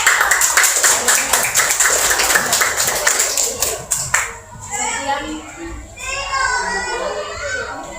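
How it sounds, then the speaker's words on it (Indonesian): Classroom audience clapping for a student group: several seconds of brisk, fairly close clapping that trails off into children chattering and speaking. "Kita berikan tepuk tangan untuk mereka."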